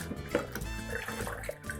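Water poured into a container to mix a homemade drink syrup gives a soft, continuous trickling and splashing for a couple of seconds, faint and close, with background music playing.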